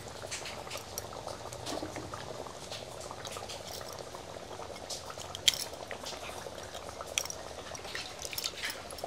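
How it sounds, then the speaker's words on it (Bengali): A pot of fish gravy bubbles and simmers steadily as raw tamarind goes in, a soft continuous boil with faint clinks and a few small splashes, fairly quiet throughout. "ব্যাস দিয়ে দিচ্ছি তেঁতুল"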